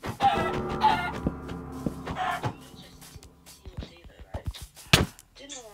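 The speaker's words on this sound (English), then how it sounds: "I'm gonna kill a chicken." A chicken in the Minecraft video game clucks in short bursts close by, with sharp hit sounds and quiet voices mixed in.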